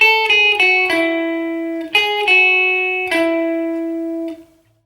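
A short melodic guitar riff, plucked notes with a clean, sustained tone, played in two phrases, each note ringing before the next, with no talking.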